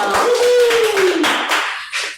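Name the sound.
audience clapping to welcome a guest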